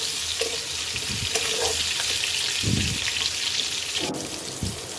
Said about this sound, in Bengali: প্রথমে পটলটা ভেজে নেব